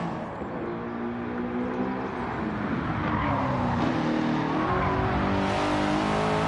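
A 600-horsepower, 2,900-pound car in Gran Turismo 7 roars steadily under hard acceleration, its engine note climbing and shifting through the whole stretch with faint tire noise, loud and close with no talking.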